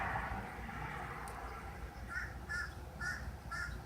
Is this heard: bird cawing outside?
yes